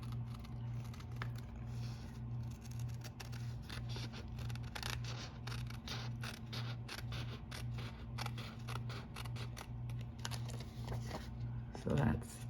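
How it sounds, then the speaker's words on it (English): Snips make a series of small, quiet clicks while cutting around a stitched star card die cut at close range, under a steady low hum with faint handling noises. "all you have to do is use your snips and cut around"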